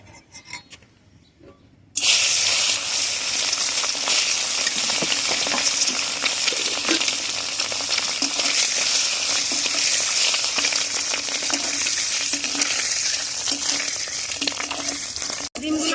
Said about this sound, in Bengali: ডিমগুলো দিয়ে ভেজে নেব ডিমগুলো